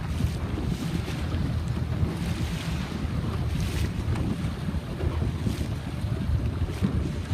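Strong wind rushes over the microphone aboard a sailboat at sea, a steady loud roar with water and wave wash underneath, continuous throughout with no talk.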